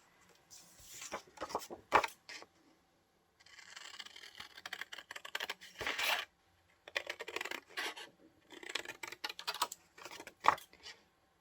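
Scissors snip through printed paper images for a cowgirl junk journal page, a close run of crisp irregular cuts and rustles in several bursts with short pauses between.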